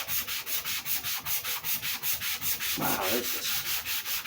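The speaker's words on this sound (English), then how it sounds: "Trying to sand with the grain of the plain maple top." Sandpaper worked with the grain across the plain maple top of a Les Paul-style guitar build, giving a steady train of close, even rasping strokes at a quick, regular rhythm, with a brief voice speaking partway through.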